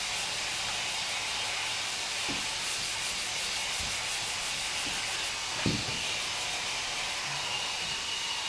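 Sandpaper rubs back and forth over Bondo body filler on a car fender during a DIY repair, a steady, close, continuous abrasive scratching with no talking.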